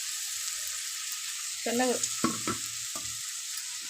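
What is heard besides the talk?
rice stirred into sizzling tempering for chitranna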